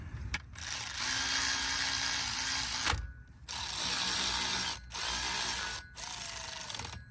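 A ratchet drives E-Torx bolts down on a BMW rear differential, its dense clicking running in four long, loud bursts separated by brief pauses, close by and with no talking.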